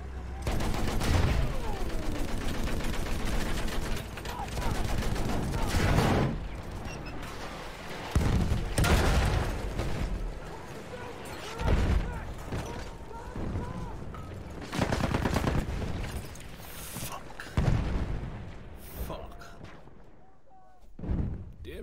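Machine gun fire in a video game, loud bursts of rapid shots and booming blasts coming in repeated waves, with voices talking between them.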